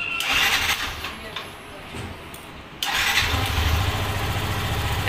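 A Yamaha FZS FI v3 motorcycle fitted with an R15 v3 fuel injector cranks and fires, settling into a steady idle that stays loud and close through the end, with a voice speaking nearby.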